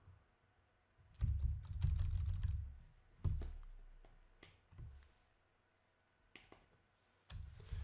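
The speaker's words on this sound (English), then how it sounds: "Ah, bloody keyboard." Clacking keys on a computer keyboard come in quick bursts of typing, with pauses and a few single taps between them, close and fairly quiet.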